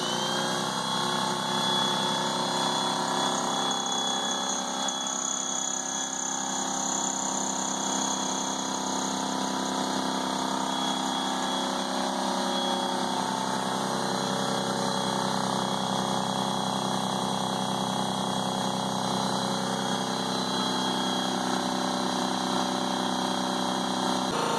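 A Husky 30-gallon 175 psi air compressor, model C303H, drones continuously at moderate volume, with a constant motor hum and faint hiss that barely changes throughout.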